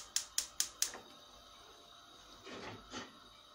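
Igniter on a gas stove clicking four times in quick, even succession, followed by a softer whoosh-like rustle as the burner catches, faint and close in a quiet kitchen.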